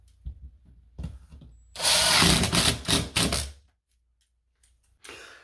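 A power drill drives a drywall screw in one loud, whirring burst lasting about two seconds, with softer handling knocks before it and a brief scrape at the end, close up and without speech.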